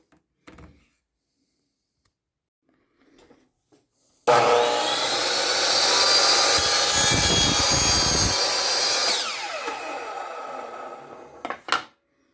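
A Saker miter saw cuts through wood: a loud, sustained whine and grinding roar for about five seconds, then a falling spin-down, with a few faint knocks before and sharp clicks after.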